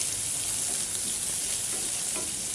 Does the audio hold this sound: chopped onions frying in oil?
yes